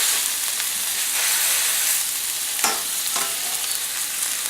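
Italian sausage patties fry in hot grease in a pan, giving a steady close sizzle with brief louder crackles and spatters, with no talk over it.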